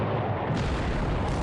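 A massive explosion in a Pacific War naval strategy game, a loud sustained booming roar that swells and holds with no break, no voices over it.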